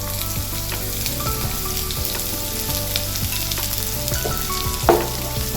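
Sliced onion sizzles steadily in hot coconut oil as part of a sweet potato masala, a close, continuous frying hiss with a few soft stirring clinks and a brief louder scrape near the end.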